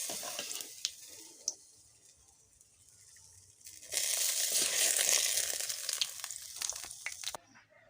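Black gram lentil ras bora fritters frying in hot oil sizzle quietly at first, then swell into a louder, bright crackling hiss with stirring clatter for several seconds before it fades.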